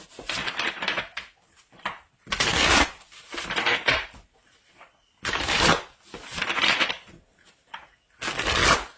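Tarot cards being handled, shuffled and drawn, in bursts of crisp papery riffling and slapping separated by short pauses, close and fairly loud with no talking.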